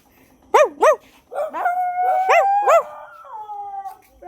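A dog barks twice sharply up close, then lets out drawn-out howling yelps that trail off.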